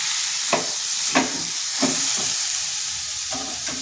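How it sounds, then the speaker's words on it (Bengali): Radish greens mixed with lentils are stirred in a pan over a soft sizzle, with about five distinct, evenly spaced spatula scrapes up close. "এরপর শাকের সাথে এভাবে ভালো করে মিশিয়ে নিতে হবে মানে বেশ কিছুক্ষণ এইভাবে নাড়াচাড়া করতে হবে"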